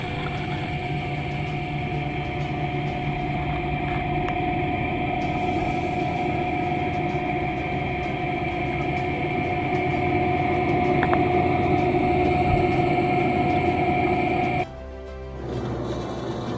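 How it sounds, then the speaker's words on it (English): A fishing vessel's engine runs steadily, a constant droning hum with a low vibrating rumble, holding for about fifteen seconds before the sound drops away abruptly near the end. "Nearly 40 minutes later, the engine roars back to life, pulling the vessel out of danger."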